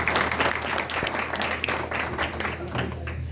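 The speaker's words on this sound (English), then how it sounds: "I think they deserve a big round of applause" Audience applause after a talk on finding and cataloging Confederate graves, a steady wash of many hands clapping that holds through the whole stretch at moderate loudness, with no voice over it.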